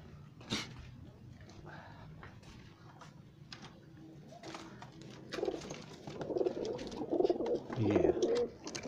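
A pair of Guldar breeder pigeons coo softly in short bursts, with the calls growing fuller and louder toward the end amid light background clatter and occasional bird noise.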